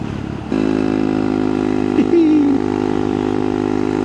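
Honda Monkey Z125 motorcycle fitted with a Yoshimura exhaust, idling loud and close with a steady low burble, then a brief throttle blip midway before settling back to an even idle.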